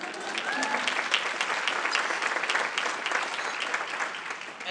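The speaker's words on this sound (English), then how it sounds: "here's some claps there." An audience applauds during a heart-disease awareness speech at a Go Red for Women event, a sustained crowd of many clapping hands, steady and fairly loud throughout.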